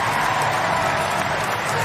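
Studio audience applause on a climbing talk show, a dense, loud, even roar of clapping filling the whole short clip.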